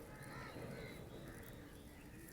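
Black bird with a greenish tinge on the neck and a red beak calling at Sukhna Lake, Chandigarh, a faint crow-like cawing amid steady outdoor background noise.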